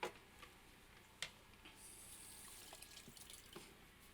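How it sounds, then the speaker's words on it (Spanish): A kitchen tap runs water steadily while chocolate, coffee and liquorice sweets are made with almond flour, with a couple of sharp clinks and faint handling knocks at the start. "Dale al agua."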